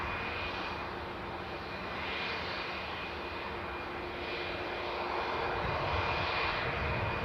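A passenger plane comes in to land at Newcastle Airport, its engine roar a steady broadband rumble that builds slightly louder toward the end, with no voices.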